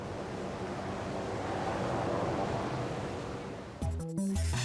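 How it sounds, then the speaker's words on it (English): Ocean waves breaking on a beach make a continuous, loud broadband wash of surf, and music cuts in for the final second. "Waves dump them on the beach"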